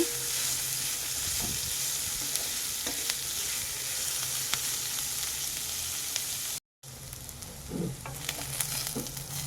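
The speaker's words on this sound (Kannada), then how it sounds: "ಈ ರೀತಿ ಈರುಳ್ಳಿನ ನಾವು ಚೆನ್ನಾಗಿ ಫ್ರೈ ಮಾಡ್ಕೋಬೇಕು." Onions fry in a pan until brown, giving a steady close sizzle with occasional soft stirring scrapes. A brief dropout cuts the sound near the end before the frying resumes.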